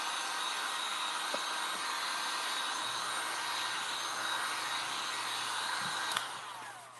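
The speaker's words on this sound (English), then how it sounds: "So I'm going to hit this real quick with a hair dryer or heat gun" A hair dryer or heat gun blows over a limewash finish on wood, giving off a steady, fairly quiet whirring rush. A click near the end is followed by the airflow winding down.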